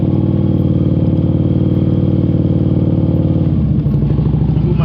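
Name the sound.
motorcycle engine running during slow U-turn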